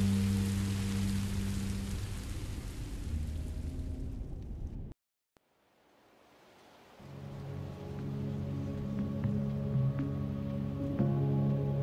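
Steady rain falls in the Minecraft: Story Mode video game, a constant broadband hiss with low rumble that cuts out to silence for about two seconds, then returns just as dense and loud.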